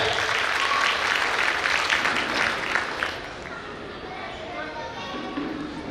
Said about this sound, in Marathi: त्यांच्यासाठी जोरदार टाळ्या होऊन जाऊ द्या